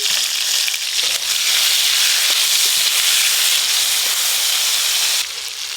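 Boiled radishes being poured off from a pot, giving a steady loud rushing hiss of hot water and steam that runs for several seconds and eases slightly near the end.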